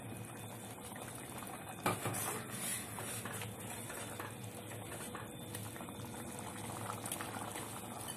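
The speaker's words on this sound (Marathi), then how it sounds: "आता ही आपण उकळी देतोय" Spinach and buttermilk curry boils in a pot, giving a steady, soft bubbling and simmering that stays close and continuous, with one brief clink partway through.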